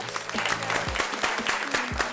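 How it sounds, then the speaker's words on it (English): Contestants at a cooking competition celebration dinner applaud in a steady burst of clapping with some crowd noise, close and loud throughout. "You can give yourselves a round of applause."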